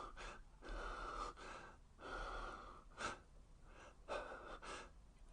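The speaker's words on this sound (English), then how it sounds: "the woman could hear quick breathing" Quick, ragged breathing from a woman, rendered as a dramatic reading, comes in rhythmic pulses of inhale and exhale, close and fairly quiet, with no talking over it.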